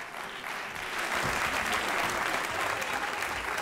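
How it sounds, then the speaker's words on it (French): Applause from the audience at a francophone cinema awards ceremony, a continuous wash of clapping that swells slightly and holds steady, somewhat distant and moderately loud. "Mesdames, Messieurs, on continue d'applaudir très fort."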